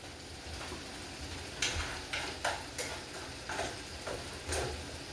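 Eggs cooking in a pan for chicken fried rice, stirred with a spoon: a soft steady sizzle under a series of distinct scraping, tapping strokes roughly every half second to second, close and fairly quiet.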